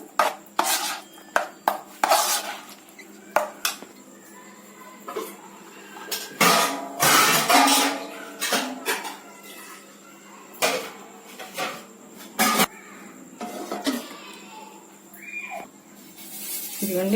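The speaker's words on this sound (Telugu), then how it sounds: "ఇడ్లీ ప్లేట్లు తీసుకున్నాను" Metal idli plates for semiya idli being handled, giving repeated sharp clanks and clatters of metal on metal with short pauses between, close and fairly loud.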